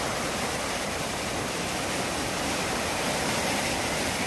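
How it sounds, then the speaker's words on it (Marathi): A swollen river rushes over rocks in a dense, steady roar, loud and close, with no pauses or voices. "ते बघ वरच्या दगडीवरनं पाणी जात आहे"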